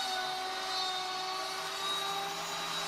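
A GarageWorks CNC machine cuts a round wooden plate, a steady loud whine with high tonal spindle pitches over constant broadband cutting noise, continuous and close.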